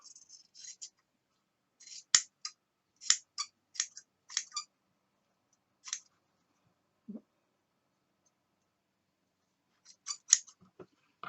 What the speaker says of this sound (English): take your scissors and cut those off